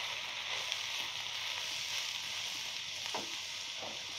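Potato, eggplant and spinach fry in a pan with a steady broadband sizzle, moderately loud and close, with a few faint stirring scrapes near the end; no voices.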